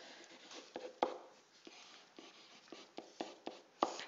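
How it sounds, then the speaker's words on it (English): Notes written by hand with a pen or pencil: faint, scratchy strokes in an irregular rhythm, with a few sharper taps and lifts of the writing tool, heard alone and quietly with no talking. "Write that down, please."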